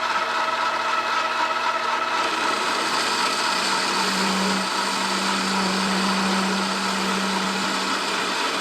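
A metal lathe turns a piece of cold rolled steel against a carbide tool: a loud, steady machine whine and hiss, with a sustained cutting tone settling in midway through an interrupted cut; no talk.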